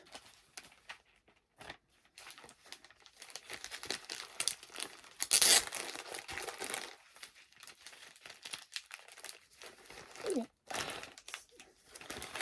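Crinkling, tearing plastic as comics are pulled from a taped plastic bag, with irregular crackles and rustles close by and one sharp rip burst partway through, plus brief quiet gaps.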